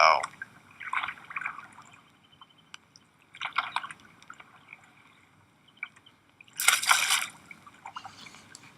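Canoe paddling on calm water, several separate soft splashes and drips from paddle strokes spaced a few seconds apart, close and fairly quiet, with faint voices between them.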